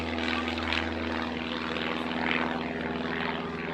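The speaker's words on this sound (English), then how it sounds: "it's a nice gentle takeoff, and he'll climb for height and position" Propeller engine of a DR-107 One Design aerobatic plane during a gentle takeoff at an air display, a steady droning buzz held at even loudness throughout, heard alone without talk.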